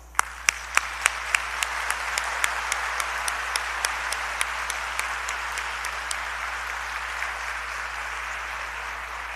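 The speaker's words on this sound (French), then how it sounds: "nous exprimons cette joie de vous accueillir par un concert d'applaudissements" University audience gives a welcoming round of applause for Dr Jean-Bertrand Aristide, a dense, even wash of many hands clapping, with a few louder individual claps standing out at a steady beat early on and then fading into the mass.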